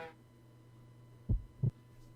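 A two-beat heartbeat effect from The Silver Case video game, a low thump followed by a second one about a third of a second later, fairly prominent over a faint steady hum.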